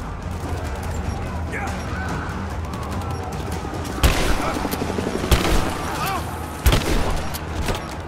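Shotgun blasts in Rise of the Tomb Raider ring out over a steady bed of game noise and scattered voices, with a few sharp, loud bangs spaced a second or two apart.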